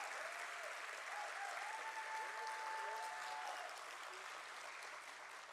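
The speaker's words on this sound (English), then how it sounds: "I think we can clap more." Steady audience applause fills a hall at a BSE stock exchange listing ceremony for One MobiKwik Systems, a dense, even wash of clapping that holds for several seconds and eases slightly at the end.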